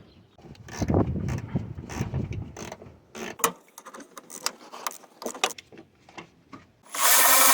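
Metallic clicks and scrapes of a quarter-inch ratchet wrench at close range during a Toyota Sienna power steering pump replacement, irregular bursts of ratcheting with clanks of tools, ending in a hiss of noise.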